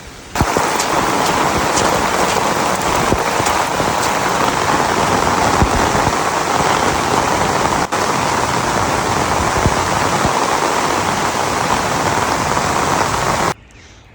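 Heavy, steady rain pouring for days over a garden beside an overflowing creek, a loud, constant close hiss of falling water that cuts off abruptly at the end.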